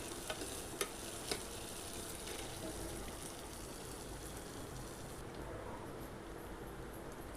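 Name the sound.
sautéing leftover chapati pieces with coriander in a pan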